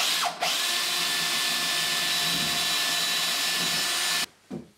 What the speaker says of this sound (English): We're going to start off by drilling a 12mm or half an inch hole.